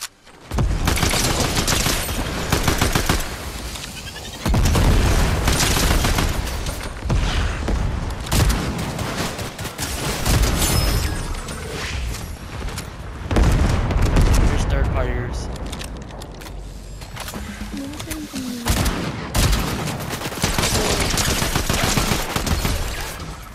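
Gunfire in a battle royale video game rattles in dense, rapid bursts and booms almost without a break. It is loud and busy, and a player talks over the shooting.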